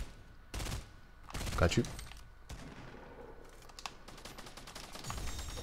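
Assault rifle fire from Fortnite comes in a few short bursts of shots between quieter gaps, with someone speaking briefly over the game sounds.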